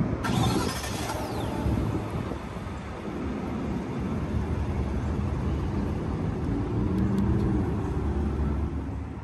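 A 2021 Chevrolet Silverado 1500 LT pickup starts up: a brief crank and catch in the first second, then a steady, loud engine rumble that holds through the rest, with no talking.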